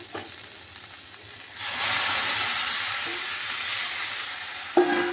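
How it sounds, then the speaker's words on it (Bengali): Water poured into a pan of frying gobindobhog rice and spices sets off a loud, close hissing sizzle that swells suddenly and holds steady, with light clinks of a utensil before and after. "এখানে পরিমাণ মতো জল দিয়ে দিচ্ছি।"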